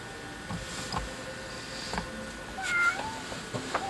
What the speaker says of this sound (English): You hear the cat in the background